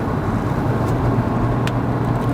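Steady, loud road and engine noise from inside a facelifted Hyundai Avante carrying four people, cornering at high speed, a constant low drone with tire rumble and no distinct events.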